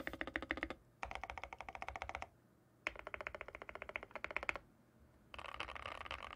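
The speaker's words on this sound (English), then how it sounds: "if you are going to buy a new keyboard, might want to hear this one" Typing on a mechanical computer keyboard in bursts of rapid, close, crisp keystrokes, separated by short pauses, loud and alone with no talk.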